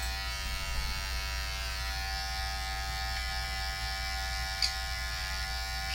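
Cheap Temu electric shaver running in trimmer mode, a steady close-up electric buzz with a faint high whine, continuous throughout with one small click.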